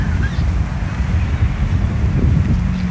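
Steady wind buffets the microphone with a low, continuous rumble throughout, gusting slightly stronger near the end.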